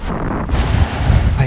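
Wind and waves around a sailboat crossing the Skagerrak under hydrovane self-steering, loud gusty wind buffeting the microphone over rushing water, briefly easing midway before surging again.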